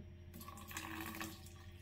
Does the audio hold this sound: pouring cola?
yes